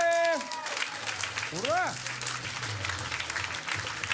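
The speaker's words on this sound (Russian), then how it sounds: "Аплодисменты!" A burst of clapping and cheering from a small crowd, a video game sound effect in Call of Duty: Modern Warfare 2019, steady and moderately loud, with a bright rising electronic chime and a voice shouting over it.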